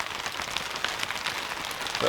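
Sleet and hard rain fall outside a truck, a dense steady patter of drops drumming on the surface throughout, close and moderately loud with no break.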